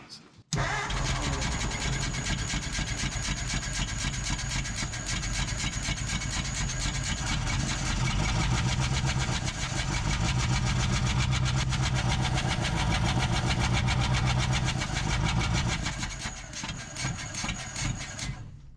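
A barn-find 1947 Ford coupe's flathead V8, abandoned for fifteen years, cranks and catches, then runs steadily and loudly with a rough, uneven idle for a long stretch before easing off near the end.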